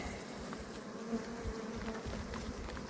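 Honeybees swarm around their hive at a mountain pasture apiary, a steady, dense buzzing of many wings that holds close and even throughout, with no voices.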